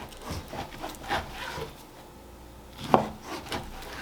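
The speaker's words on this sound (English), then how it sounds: "to start, I like to cut these guys into strips" A knife slices through raw pork belly on a board, cutting it into strips about an inch and a half wide: quiet, close scraping and rubbing strokes with one sharper tap near the end.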